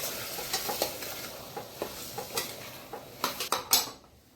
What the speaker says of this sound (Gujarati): હવે આપણે આને બધાને હલાવી નાખીએ